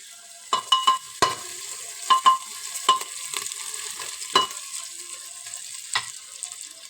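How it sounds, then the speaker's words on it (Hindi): Onion, garlic and ground green chili masala frying in a pan, with a steady sizzle broken by repeated scraping and stirring strokes of a spoon, close and alone. "ये देखो ये मेरा मसाला ब्राउन हो रहा, वो भुन रहा है।"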